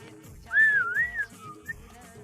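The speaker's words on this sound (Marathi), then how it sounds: "मी तुम्ही यायच्या आधीपासून शिट्टी वाजवतोय." A person whistles a short, sliding tune with a rising and falling pitch line, fairly close and clear over faint background sounds, ending with a brief final chirp.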